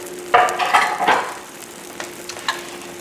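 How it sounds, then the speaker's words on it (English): Tomatoes, mushrooms and green beans in cream sauce get a few stirs in a hot pan, with soft scraping strokes over a low steady sizzle, close and without speech. "The tomatoes, we give it a stir, and we're done."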